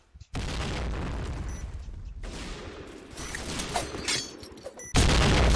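A loud burst of video game explosions and gunfire erupts, rumbling and crackling, then a second heavy blast from a planted bomb hits sharply near the end.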